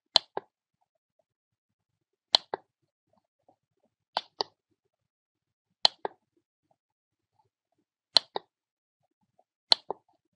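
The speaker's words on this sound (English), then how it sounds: "I'm sorry if the clicking noise you can hear is annoying you as well." Sharp clicks come in pairs, about every two seconds, from a new laptop while FIFA 13 packs are being opened, each double click crisp and close against near silence.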